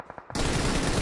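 An MG3 machine gun in PUBG Mobile fires a loud, sustained burst that starts abruptly after a few faint clicks and runs continuously to the end.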